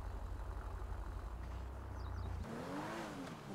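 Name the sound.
car engine starting and accelerating in video game GTA 5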